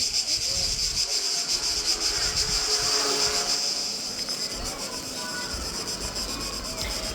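Cicadas in Tribunj, Croatia, drone in a loud, steady, high buzz of their morning song that pulses continuously across the whole stretch, with faint low rustling underneath and no voices.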